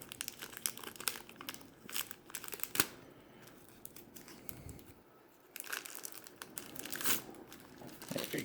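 Plastic packaging being crinkled and torn off an anime figure, a steady run of close crackling and ripping with brief pauses.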